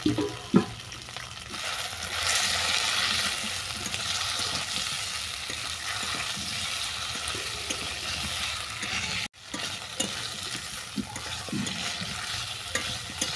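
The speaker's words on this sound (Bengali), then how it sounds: "আদার সঙ্গে সবজিগুলোকে ভালো করে কষিয়ে নিয়েছি।" Mixed fried vegetables sautéed with ginger in a pan for jute-leaf sukto, giving a steady sizzle with scraping, stirring and clinking of a spatula throughout, plus a brief dropout near the end.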